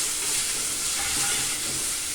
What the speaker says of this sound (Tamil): சரி, வெங்காயம் வந்து ரொம்ப வதக்க வேண்டாம்